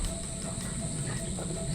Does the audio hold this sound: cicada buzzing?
yes